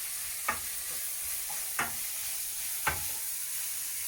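About 200 grams of beef mince fries in a hot pan with a soft, steady sizzle, broken by three distinct spatula scrapes spaced about a second apart, heard up close.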